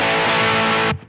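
An electric guitar plays through a True North Pedals Tweed Junior with the gain fully up, giving one loud, saturated American-style amp-distortion chord that rings for about a second before being cut off sharply.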